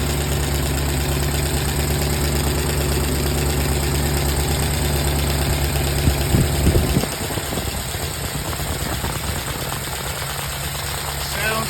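A 1952 Buick straight-eight 263 engine idles close by with a steady, low, even rumble, which thins out and drops in level during the last few seconds.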